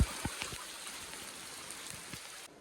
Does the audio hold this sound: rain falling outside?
yes